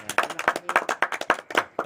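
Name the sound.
clapping applause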